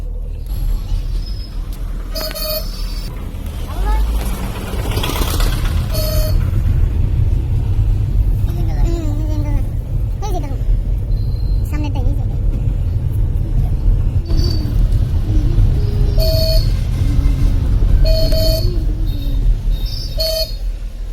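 Steady heavy road traffic rumbles close by on a busy road outside Naogaon town near a railway line, with repeated horn toots and passing engines over a constant low drone.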